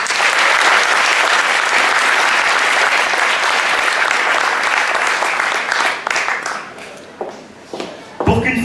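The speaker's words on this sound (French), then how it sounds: "Je vous demande d'applaudir très très fort Sidi Karastra." An audience gives sustained, loud applause at a Paris jamaat community tournament event, with a dense wash of clapping that thins and trails off toward the end, where a few scattered claps and room noise remain.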